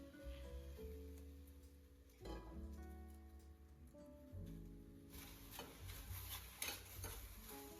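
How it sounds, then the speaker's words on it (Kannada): Okra hits hot oil already seasoned with onion, turmeric, curry leaves, cumin and mustard seeds, then gets stirred in a pan: scraping spoon strokes and clinks over a continuous soft sizzle, close up, with no talk. "ಈಗ ಬೆಂಡೆಕಾಯಿ ಹಾಕಿ ಹುರ್ಕೊಳ್ಳೋಣ ಚೆನ್ನಾಗಿ."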